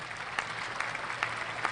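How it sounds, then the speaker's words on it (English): A small group claps in a brief, steady patter with a few sharper claps standing out, heard at moderate distance with no voices over it. "that was a smooth transition to that applause"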